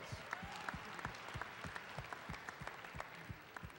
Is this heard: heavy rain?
no